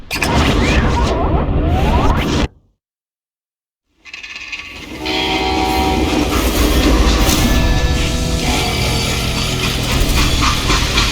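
Freight train in the Western video game Call of Juarez Gunslinger, a loud rumbling, clattering run that cuts to silence for a moment, then resumes as a continuous heavy rolling clatter with music-like tones.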